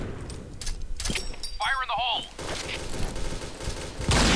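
Sniper rifle gunfire in the online shooter Point Blank: sharp, close shots and clattering game effects in quick succession, mixed with a voice talking over the action.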